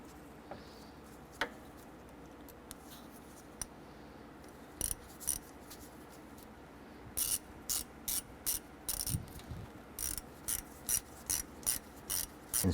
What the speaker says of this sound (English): Using our 15/16 socket, let's go ahead and snug down our hose clamp here.